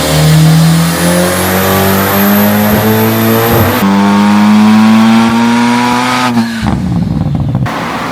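A 533 hp Honda Civic Type-R engine, loud and close, revs in long rising pulls with rising tones that build, drop and climb again before cutting off near the end.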